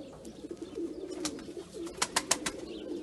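A tumbler pigeon coos low and steady while it is being handled and shown, and a few sharp chirps or clicks cut in near the end, all close up with no speech.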